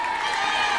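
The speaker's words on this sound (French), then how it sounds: "Et on applaudit bien fort!" Outdoor crowd applauding at a balloon release in Épernay, France, with a steady, dense wash of clapping and cheering at a moderate distance, sustained without break through the moment.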